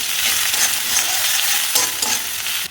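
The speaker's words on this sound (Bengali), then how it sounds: "এগুলো সব একসাথে এবার দিয়ে দেবো। কাঁচা লঙ্কাও আছে এর মধ্যে, এগুলো এবার দিয়ে ভালো করে ভাজবো।" Garlic, ginger, coriander stems and green chilli sizzling in hot oil: a loud, continuous crackling hiss throughout, with faint stirring underneath.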